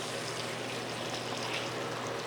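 Plain hot water poured into canning jars packed with green beans, a steady continuous splashing stream throughout, close and moderately loud.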